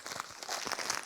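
Packaging crinkles and crunches as a new flip phone's box is opened by hand, a short run of soft rustling, tearing-like crackles and handling noises, close and fairly quiet.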